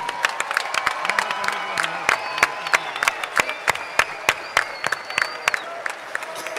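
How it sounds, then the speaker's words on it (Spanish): Crowd at an outdoor Toro Enmaromado festival gathering applauds in tribute, sustained loud clapping with sharp individual claps standing out, whistles and a few cheers mixed in. "un fuerte aplauso para ellos dirigido al cielo"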